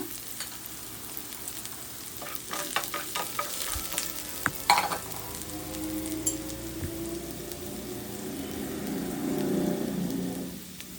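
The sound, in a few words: onions frying in a pan until golden brown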